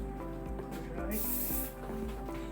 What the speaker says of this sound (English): let me get my little pre-hairspray spray.